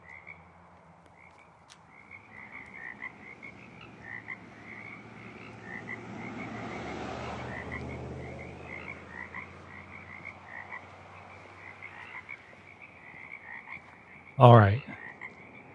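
Frogs croak in a steady, repeated chorus at night, moderately quiet, with a low rumble swelling in the middle and a brief loud bump near the end; a voice speaks briefly.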